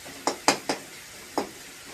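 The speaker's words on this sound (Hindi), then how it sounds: "अब चला देती हूँ। टमाटर भुजा जाएगा अच्छे से" Tomatoes frying in a pan are stirred with a utensil, giving four short scraping strokes, three in quick succession and one after a pause, over a faint sizzle.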